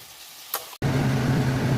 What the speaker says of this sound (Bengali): ততক্ষণ মাছগুলো ভাজা হতে থাকে